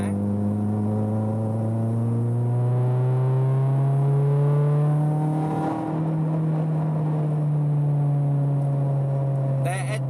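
A K-swapped Honda car accelerates hard through the gears, its engine note climbing steadily, dropping briefly at a shift near the middle, then rising again, loud and close from inside the car.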